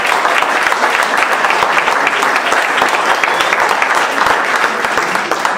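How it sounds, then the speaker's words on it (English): Congregation applauding Rabbi and Chana at a Chabad concert, a loud, dense crowd clapping that holds steady throughout. "if we could all give Rabbi and Chana a round of applause"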